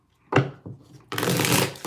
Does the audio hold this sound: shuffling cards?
yes